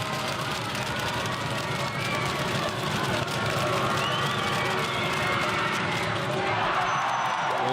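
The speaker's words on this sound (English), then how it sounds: "you can feel the intensity in the hangar, the crowd getting amongst it" A basketball crowd roars steadily through an indoor hangar arena during a close Manawatu Jets versus Taranaki Airs NBL game, a loud dense wash of cheering and shouting with faint squeaks and bounces underneath.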